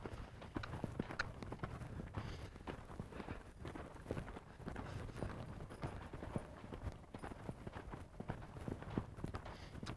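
Hooves of an off-track thoroughbred being ridden strike the ground in a steady, quick clip-clop rhythm for ten seconds, faint and somewhat distant, with no speech over them.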